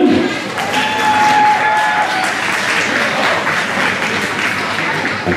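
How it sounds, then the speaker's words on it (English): Ballroom audience claps for sub-juvenile recreational dance couples taking the floor, loud continuous applause with a hint of cheering and tonal music or feedback running underneath. "Give them a round of applause,"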